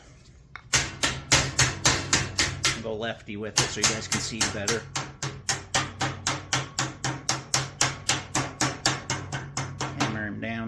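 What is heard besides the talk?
thumping stick hammering sheet metal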